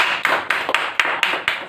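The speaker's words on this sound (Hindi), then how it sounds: "ताली बजाओ सब लोग।" Audience at a street magic show clapping in rhythmic unison, about seven evenly spaced loud claps close by, with no speech over them.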